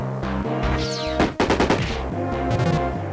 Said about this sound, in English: Hit him with the burning bomb.